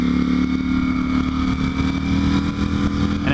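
A Ducati Panigale V4 Speciale fitted with a Ducati throttle spacer kit pulls hard on the throttle through a canyon road, its engine a loud, steady, close-up drone with a rich harmonic growl and no voices over it.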